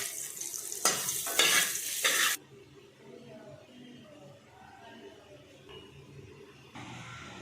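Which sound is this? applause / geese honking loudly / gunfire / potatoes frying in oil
potatoes frying in oil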